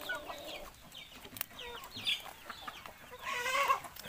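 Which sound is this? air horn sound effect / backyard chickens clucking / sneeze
backyard chickens clucking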